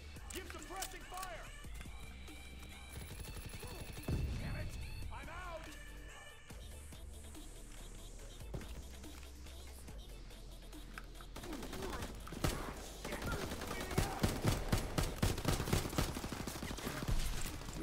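Distant Call of Duty: WWII battlefield gunfire pops through quiet background game audio, building to denser rapid shots near the end, with faint voices in the mix.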